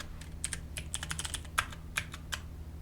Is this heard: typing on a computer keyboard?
yes